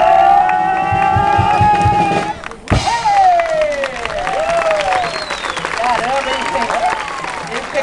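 Theatre audience applauding during a Brazilian comic stage show, a broad, steady wash of clapping and crowd noise that dips briefly and swells again, with voices and music-like tones underneath.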